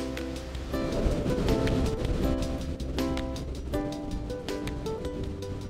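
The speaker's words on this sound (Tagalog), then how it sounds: "at ang dagundong ng mga alon sa dalampasigan." Ocean waves wash and crash steadily on a beach shore, a continuous roaring surf with no voices.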